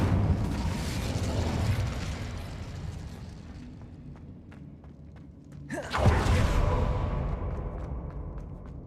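A fire spell cast in Hogwarts Legacy: a sudden whooshing burst of flame bursts out around the middle, louder than the rumbling game noise before it, then crackles and roars on steadily.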